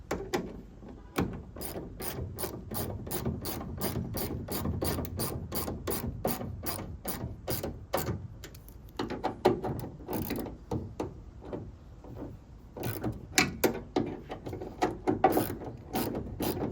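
A ratchet drives screws into a tail light on a 2021–2025 Ford F-150, with a long run of rapid, crisp clicks, close up and steady, broken by one brief pause midway, and no talk.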